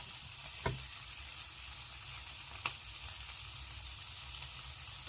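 Rice frying for African party fried rice, a steady close sizzle with a couple of sharp clicks of the stirring spoon against the pan, no voices.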